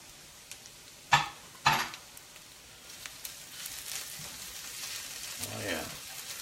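Tomato paste, shallots and garlic sizzle softly in a pan with a couple of sharp utensil clanks early on, the frying hiss low and steady beneath quiet background.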